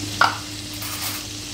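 Red chillies crackle and sizzle in hot butter for a tadka, with a brief sharper burst near the start and then a steady, soft frying hiss throughout, close by and without speech.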